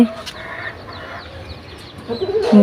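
Chickens cluck close by in short bursts, with a louder cackle near the end over faint outdoor background noise.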